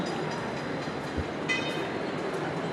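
Train at Churchgate station in Mumbai, a continuous rumbling roar of rail cars with a brief horn-like tone partway through, heard alone without talk.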